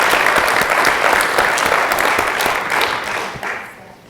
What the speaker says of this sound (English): A round of applause for Andrew